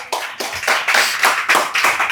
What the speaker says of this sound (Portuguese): Quantos querem dar um aplauso ao Senhor pela vida do Zé Roberto